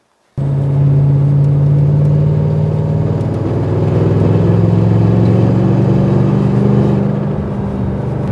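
A Mercedes E63 fitted with a cheap aftermarket exhaust drones steadily on a test drive, a loud, close, low engine rumble that swells and eases as it revs and cruises, with no voices over it.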